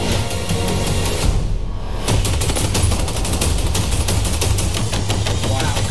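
Rapid gunfire from a movie trailer for The Batman, loud dense bursts of shots and impacts running continuously with a brief dip before resuming.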